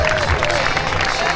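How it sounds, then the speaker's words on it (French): Crowd at a volleyball tournament final applauding the finalists, a loud, continuous wash of clapping and cheering voices with a busy, crackling texture throughout. "Applaudissements également s'il vous plaît pour les finalistes Timo, Sheik et Matteo du FC Martinovic"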